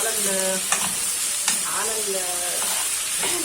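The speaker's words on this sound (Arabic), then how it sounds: "اول ما نزلت البصل كده هيبتدي ياخد لون الكرمله بتاعت السكر مع السمنه" Onions caramelizing with sugar in hot ghee give off a continuous sizzle, broken by a few sharp taps and scrapes of a spoon stirring the pan, close and fairly loud.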